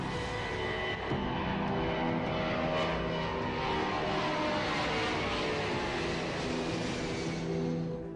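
A hijacked airliner takes off from Lahore, its engines roaring steadily and loudly for the whole stretch, swelling slightly after the first second with no voices present.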